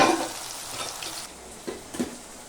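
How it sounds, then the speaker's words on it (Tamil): Onions and tomatoes sauté in a pan as the base for a sardine fish curry, giving a loud sizzle that fades, followed by a couple of short stirring scrapes. "நல்லா பாருங்க வெங்காயம் தக்காளி நல்லா வதங்கிடுச்சு"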